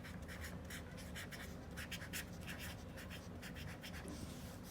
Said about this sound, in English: you will write here earthworm